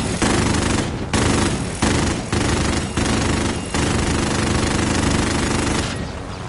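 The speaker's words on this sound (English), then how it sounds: "They're shooting at us." Loud bursts of automatic gunfire in a video game, rapid rattling volleys separated by brief gaps, close and dominant with no talk.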